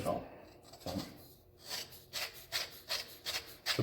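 A metal nut being worked onto the threads of an ATV shock during reassembly, producing repeated short scraping rubs close by, under a voice speaking over them.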